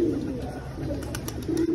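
Pigeons coo softly at a kabootar bazi rooftop, low murmuring calls over a steady outdoor background, with a few faint higher ticks.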